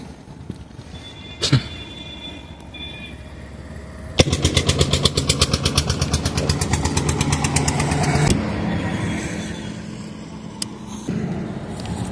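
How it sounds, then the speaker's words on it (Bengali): A Royal Enfield Classic 350 motorcycle on a highway roadside fires up after a quiet start, breaking into a loud, rapid thumping idle that then settles into a steadier, softer single-cylinder beat. "তো আমরা আমাদের ভিডিওটা স্টার্ট করার জন্য প্রথমে বাইকটা স্টার্ট দিলাম।"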